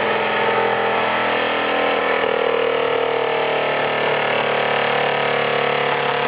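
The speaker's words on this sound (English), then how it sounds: "This is the Esbic burner doing its job in the firebox." Esbic solid-fuel burner firing inside the firebox of a Fleischmann model steam engine: a steady, loud, continuous roaring hiss that holds level throughout, with no speech.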